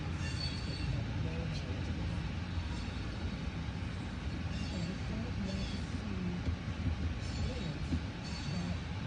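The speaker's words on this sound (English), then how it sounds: "Alright, well, here's the train." A train rolls past a road crossing as a steady, dense rumble of wheels and cars with no pauses, continuous and moderately loud throughout.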